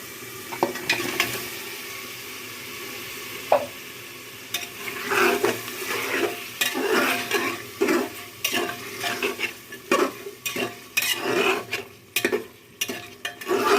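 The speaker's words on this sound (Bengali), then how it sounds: "আমি মাংসটাকে একটু ভালো করে কষিয়ে নিব।" Beef head meat stirred and sautéed in a pressure cooker, a spoon scraping and clinking through a steady low sizzle in repeated strokes, close and moderately loud, with no voices.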